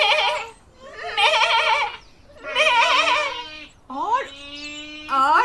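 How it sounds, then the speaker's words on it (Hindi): A goat bleats four times in a row, wavering, close and fairly loud, with short pauses between each call. "सुबह को बकरी बोली"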